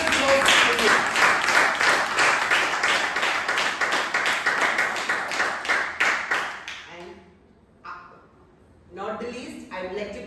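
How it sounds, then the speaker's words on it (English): Audience members at a speakers' club meeting clap for several seconds, a moderate sparse applause with distinct individual claps that fades out, followed by a brief spoken voice. "let's give a thunderous applause to you."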